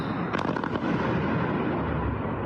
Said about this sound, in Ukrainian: Несподівано й ні звідки дрони і вибухи над головою.